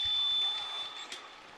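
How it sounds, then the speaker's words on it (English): A final buzzer sounds to end a para ice hockey qualification game between Slovakia and Sweden, a steady electronic tone lasting under a second that fades into arena noise. "And that's final buzzer here."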